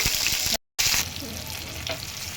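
Spices roast with tomato and curry leaves in a pan for a fish masala, giving a close, steady sizzle broken by a short silent cut, then continuing more softly with stirring.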